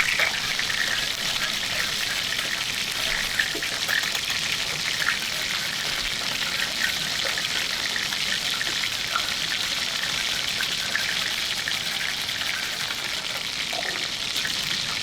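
A pear reduction sauce for duck bubbles vigorously in a pan, a steady, fairly loud hiss of popping bubbles with a few brighter crackles throughout.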